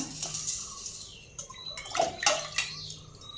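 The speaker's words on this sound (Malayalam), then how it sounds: "കുതിരാനുള്ള വെള്ളം ഒഴിച്ചു കൊടുക്കാം." A light trickle of water pours into a bowl to soak ingredients for idli and dosa batter, with small splashes and a few clinks of a container, quiet and close.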